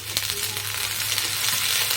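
Vegetables sizzle and fry steadily in a hot pan as peas go in, a continuous close crackling hiss with a few brief stirring scrapes and no talk.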